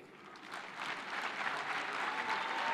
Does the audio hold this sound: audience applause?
yes